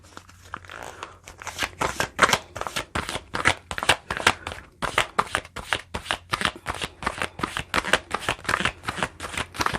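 Tarot deck shuffled by hand for a card reading, a dense, steady stream of close, crisp card slaps and riffles continuing throughout with no talking.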